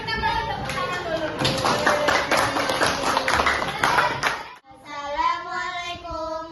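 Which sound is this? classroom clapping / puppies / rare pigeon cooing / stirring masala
classroom clapping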